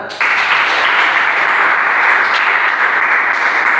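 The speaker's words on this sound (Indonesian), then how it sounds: "Betul sekali, tepuk tangan." Loud, sustained applause from a crowd, a dense wash of clapping that starts abruptly and continues without a break.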